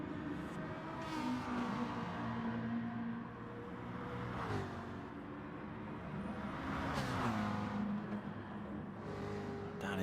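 Engine note of a McLaren race car in a racing video game, circuit racing at Catalunya or Bathurst, a steady loud drone with pitch sweeps as it revs and shifts, other cars' engines blending in, no talk.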